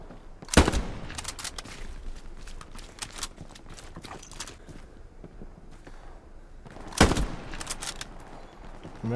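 Gunfire in the video game Hell Let Loose: two sharp, loud shots several seconds apart over a steady background of fainter battlefield clatter and distant pops.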